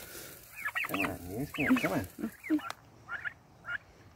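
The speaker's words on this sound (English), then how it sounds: "The turkeys are going crazy." Turkeys gobble in several loud, warbling bursts close by, followed by a few fainter calls.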